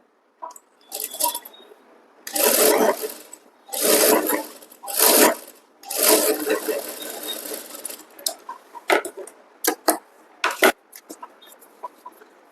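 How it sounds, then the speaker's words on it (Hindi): A sewing machine stitches the folded strip for an invisible zip on the back of a kurti, running in several close, loud bursts of stitching separated by short pauses, then ending in quicker, shorter runs. "यहाँ पर हम एक चाप सिलाई लगाएंगे"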